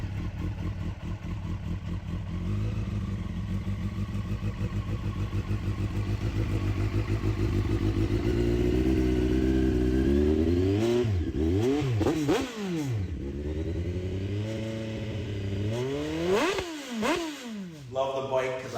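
A 2001 Honda CBR929RR Erion Racing Edition revs loudly and up close through its Erion Racing Performance exhaust and header system, idling steadily before a series of sharp throttle blips that swell and fall.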